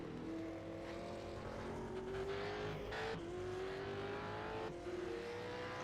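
Supercars race cars in iRacing at Phillip Island Circuit, a continuous engine whine rising through the gears with shifts and broadband bursts as other cars run nearby, steady and loud with no talk.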